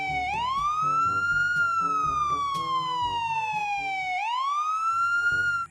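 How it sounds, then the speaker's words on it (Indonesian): A toy police car siren wails in smooth rising and falling sweeps, a bright electronic tone over faint rattling clicks, close and steady for several seconds. "ada mobil polisi"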